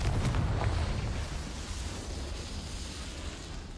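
A Confringo fire-blast spell from Hogwarts Legacy erupts in a loud, rumbling burst that rolls on and fades slowly, with no voices over it.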